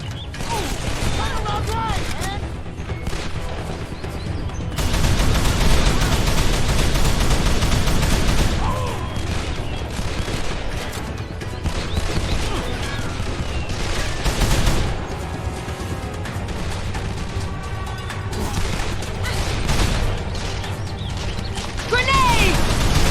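Sustained gunfire in the Xbox 360 shooter Call of Juarez: The Cartel, dense automatic bursts and single shots rattling almost nonstop with mechanical clatter and crashes, loud and close, with shouting voices mixed in.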